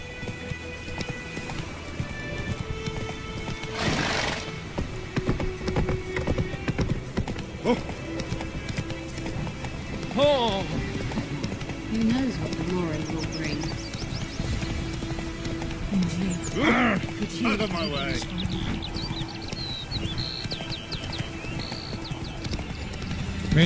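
Roach, Geralt's horse in The Witcher 3, clip-clops along at a running gait with a brief whinny or snort, the close, continuous hoofbeats sitting over game ambience for over twenty seconds.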